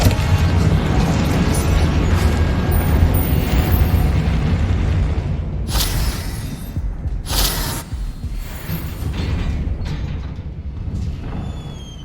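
Confringo fire curse explosions in Hogwarts Legacy, sustained loud roaring blasts with a couple of sharp bursts near the middle, continuous dense rumble throughout.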